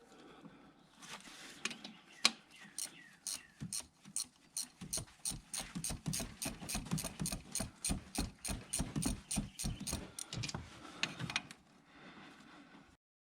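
Wrench ratchet turning out the last transmission bolt on a 2008 Chevy Suburban during 5.3L engine removal: a steady run of sharp, evenly spaced metallic clicks, close and fairly loud, speeding up slightly before stopping.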